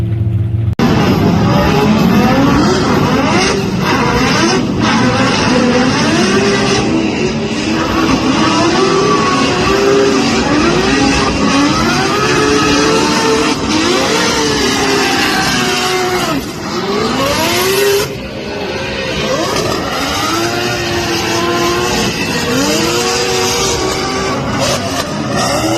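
Team KMR's three-rotor turbocharged Mazda RX-8 drift car revs hard and continuously at Formula Drift Irwindale, a loud, sustained engine roar with rising and falling pitch sweeps throughout.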